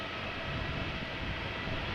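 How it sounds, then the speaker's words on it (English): Air Baltic A220 airliner departing Amsterdam Schiphol in gusty crosswind conditions: a loud, steady broadband engine roar that fills the whole span without letup, with no talk. "It is Air Baltic A220, the third one I believe we are seeing now."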